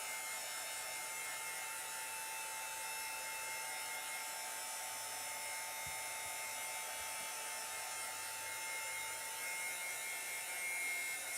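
A hair dryer blowing steadily on a chalk painting, a constant airy whoosh with a faint tonal hum throughout, plus a few soft knocks and handling noises.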